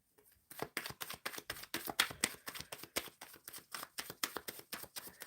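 Tarot cards are shuffled in a quick, regular run of crisp riffling flicks, close and moderately loud, with no talk over them.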